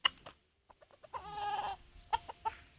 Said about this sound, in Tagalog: Mga bata pang manok dire no.